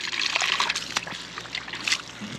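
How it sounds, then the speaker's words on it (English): Water trickles and sloshes inside a cup as it is rinsed clear of blue fertilizer in a greenhouse, a steady close, light splashing with a few brief louder spatters and no talking. "rinse it out so there's no blue in there."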